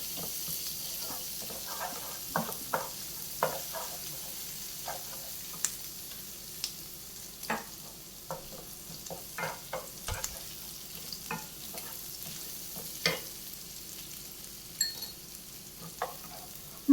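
Chopped garlic sautés in plenty of butter in a pan, a soft low sizzle under repeated scrapes and clicks from a spoon stirring, close and unhurried, with no voices.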